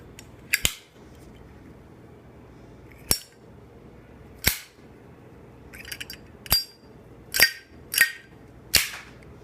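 A brand-new Zippo Ice World Meadow lighter with a tight hinge has its lid flicked open and snapped shut, giving about seven sharp, close metallic clacks at irregular intervals against a quiet background.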